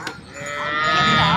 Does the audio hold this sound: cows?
yes